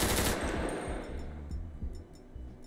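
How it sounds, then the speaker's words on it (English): Military rifle fire from a FiveM video game soundpack: a loud, close burst of shots opens the clip, then a rumbling echo tail fades out with no other sound. "Military rifle. Oh, military rifle. That got a good one to it."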